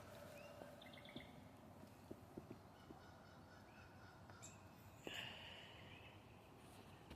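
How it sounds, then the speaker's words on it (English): Wild birds call and chirp from a tree outdoors, scattered short tweets near and far over a steady background hiss, with one louder call standing out; no talking. "we're just going to listen to birds."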